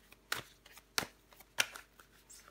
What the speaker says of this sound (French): On va recouvrir des cartes pour vous, les béliers.